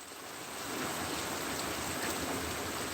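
Steady heavy rain falls during a Kentucky thunderstorm, a broad continuous wash of drops that swells slightly after the opening moment and then holds even and loud, with no voices.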